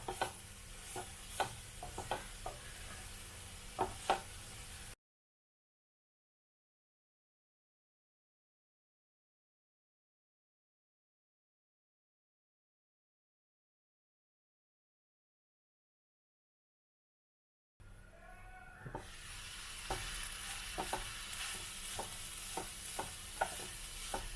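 A spoon stirs grated coconut through a cooking dish in a pan, soft scraping and light sizzle in short bursts, broken by a long silent gap before the stirring resumes.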